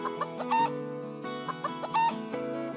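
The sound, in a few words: cartoon rooster clucking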